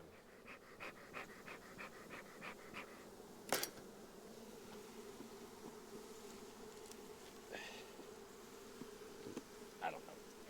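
Honey bees buzz continuously around hive boxes in a low, busy hum, with scattered louder passes close by and a few soft clicks and knocks.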